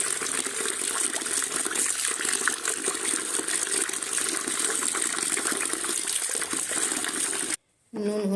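Tap water gushes steadily while fresh, oily fish is washed by hand, a loud continuous rush that cuts off abruptly near the end, with a brief voice heard once the water stops.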